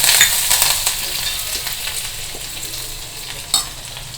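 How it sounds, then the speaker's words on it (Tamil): Mustard seeds, urad dal, cumin, ginger and green chilli sizzle and crackle in hot oil while being stirred, a steady close frying hiss with scattered pops and a sharp spatter near the end. "எண்ணெய் காஞ்செடுத்து கடுகு, உளுத்தம்பருப்பு, கொஞ்சம் சீரகம், இஞ்சி, பச்சை மிளகா,"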